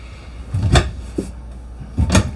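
Plastic bathroom door of a Coachmen Catalina 18RDL travel trailer opening and shutting, giving two clear knocking thuds with a softer click between, close and with no talk.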